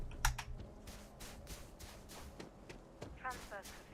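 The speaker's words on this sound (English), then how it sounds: "What is that clicking noise?" Irregular clicking and tapping in a Starfield New Game Plus session, a run of sharp, keyboard-like clicks scattered across a few seconds, close and fairly loud, with chirpy game effects near the end.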